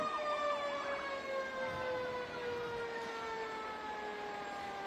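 A fire engine siren at the Anoka Halloween parade in Anoka, Minnesota, wails steadily with a long gliding tone that slowly falls in pitch, moderately distant over outdoor crowd ambience, with no speech.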